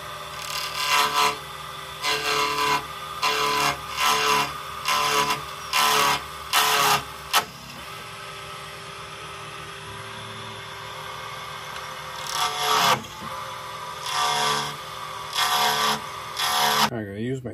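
A scrap wooden blank about 2 inches long is turned on a lathe to make a bushing, giving loud rhythmic bursts of rasping cutting separated by quieter spinning hum, with a long steady stretch in the middle and brief pauses.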